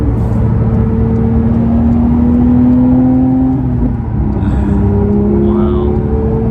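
A Porsche 911 GT3's naturally aspirated flat-six engine revs under heavy in-cabin road noise, the drone climbing steadily in pitch before easing back and rising again, loud and continuous.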